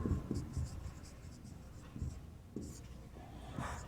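Chalk or marker writing on a board during a class 12 maths lesson on integration, short scratchy strokes in quick bursts, close, under a faint teacher's voice.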